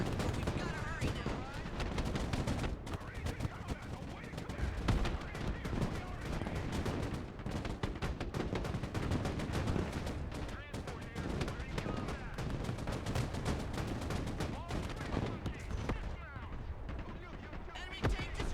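Sustained gunfire and machine-gun bursts from a Broken Arrow video game battle, dense and loud throughout as a troop transport comes under fire, with voices mixed in under the shooting.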